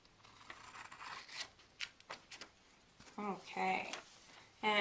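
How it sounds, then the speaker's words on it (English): Scissors cut paper along a creased line up to the fold, giving quiet close snips and rasping cuts in a few short bursts, with a voice talking in between. "So get out your scissors again. Cut only along the creased line to the fold, not past the fold"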